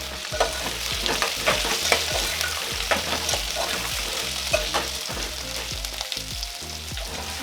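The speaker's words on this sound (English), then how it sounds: "You keep stirring your potatoes" Potatoes frying in a pan for githeri are stirred continuously, giving rhythmic scraping and tapping strokes over a steady sizzle, close up, with no talking.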